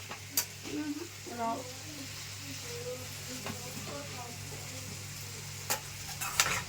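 A carrot and bean stir-fry sizzling quietly in a pan, with a few spatula strokes and clinks and faint background voices.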